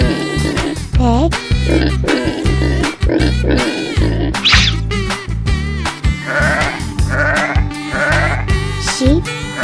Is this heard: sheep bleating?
yes